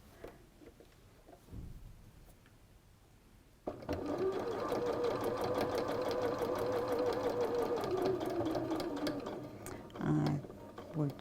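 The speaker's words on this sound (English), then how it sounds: "I'm going to sew from the edge" A sewing machine runs steadily for several seconds, stitching fabric in from the edge, after a quieter stretch at the start with faint voice; the whirring motor rises loud and even, then dips briefly near the end.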